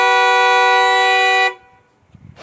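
A car horn blares in one loud, steady held blast for about a second and a half, made by valets moving cars outside a wedding venue, then cuts off into near quiet with a faint noise at the end.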